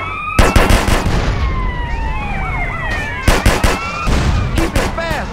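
Drive-by gunfire in GTA San Andreas from a modded 2002 Cadillac CTS-V: loud bursts of shots crack out in several clusters over wailing police sirens that sweep up and down, with a steady engine and road rumble underneath.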